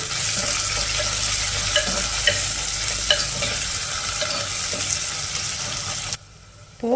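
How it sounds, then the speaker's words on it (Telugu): Sliced onions and garlic fry in a pan for Telugu pappu charu, a steady loud sizzle with stirring scrapes throughout that suddenly drops away near the end. "చూడండి ఈ విధంగా వేగాలి ఉల్లిపాయ ముక్కలు వెల్లుల్లి"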